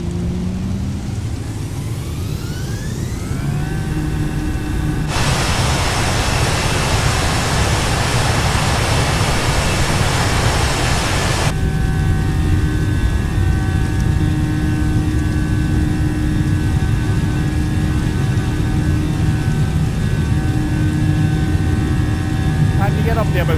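Simulated Airbus A320neo jet engines spooling to full takeoff throttle in a flight simulator game, a loud continuous roar with steady whining tones and a surge of broad rushing noise partway through.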